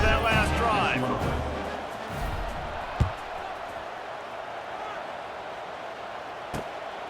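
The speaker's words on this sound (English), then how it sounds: "this crowd is feeling themselves after that last drive" Stadium crowd in the College Football 26 video game, a broad sustained roar filling the background under steady commentary, with a couple of sharp thumps cutting through.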